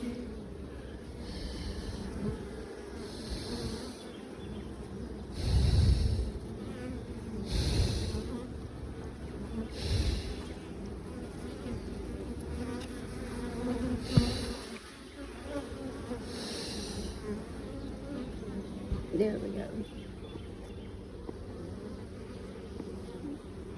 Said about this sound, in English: So there's some beautiful bee footage. Hard at work.